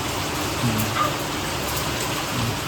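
Steady rain falls outside a home, a continuous even hiss of drops at a moderate level with no voices.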